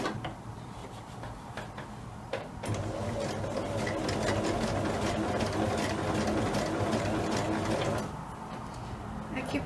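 A sewing machine runs steadily, stitching an upcycled old t-shirt close to a serged seam, its fast mechanical ticking and whir sustained for several seconds after a brief start, with a softer stretch at the end.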